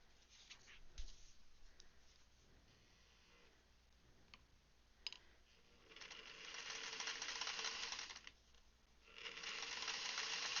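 A sewing machine stitches quilt pieces in short and longer bursts. It is quiet and close, with scattered clicks and taps between runs and a steady whirring run near the end.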